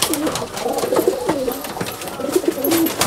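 Domestic pigeons cooing inside a home-bred pigeon loft in Falta, South 24 Parganas, with repeated soft low coos rising and falling in close, overlapping phrases over a faint background hiss.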